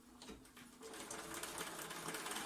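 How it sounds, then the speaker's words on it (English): A sewing machine stitches a paper-pieced quilt block, its steady rapid whir running close and continuous throughout with no talking. "go straight to the sewing machine"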